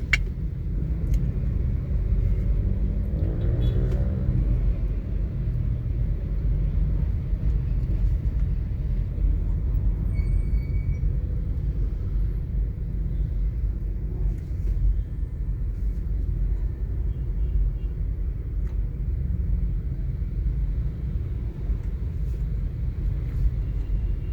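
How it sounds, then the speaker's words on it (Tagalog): Heavy road traffic on EDSA near Megamall in Mandaluyong makes a dense, continuous low rumble of engines, with passing vehicles blending into one steady roar and no talk. "Traffic na walang pagbabago mula noon hanggang ngayon."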